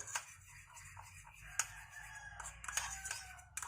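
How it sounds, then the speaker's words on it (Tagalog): A neighbor's chicken clucks and squawks off at a distance over steady background noise, with a few sharp clicks and clatters nearby. "May manok sa kapitbahay."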